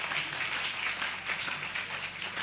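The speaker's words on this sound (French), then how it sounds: "Tu l'applaudis encore" A church congregation applauds in praise of the Lord, a dense, continuous patter of many hands forming a diffuse roar rather than distinct individual claps, sustained for a couple of seconds.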